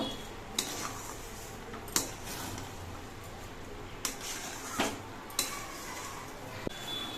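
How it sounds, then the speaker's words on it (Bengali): Spoon scraping and clinking against a pot while sugar is stirred into nearly cooked basanti pulao rice, a few sharp metallic knocks over a soft, steady background. "এবার চিনি দিয়ে নেড়ে চেড়ে মিশিয়ে নেব"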